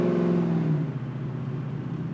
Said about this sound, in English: the exhaust has a nice throaty sound